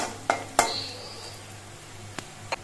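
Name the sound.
onions being stirred and fried in a pan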